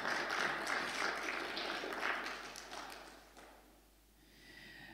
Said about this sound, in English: But I think we should give the Lord a clap offering for that